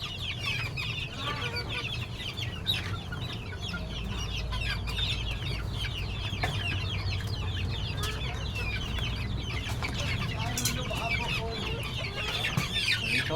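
Chickens cluck steadily and close while being fed leftover rice, a busy layer of soft clucks and chirps over a low background rumble, with no talk.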